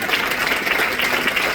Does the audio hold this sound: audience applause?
yes